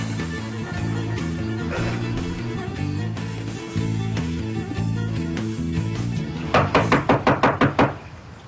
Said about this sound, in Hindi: 10 मिनट से खटखटा रहा हूं, दरवाजा नहीं खोल रही हो।